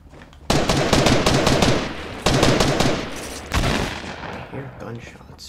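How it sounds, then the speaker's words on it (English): Rapid gunfire from the video game Fortnite: three loud bursts of automatic shots, each sustained for about a second or more, with short pauses between and tailing off at the end. "gunshots."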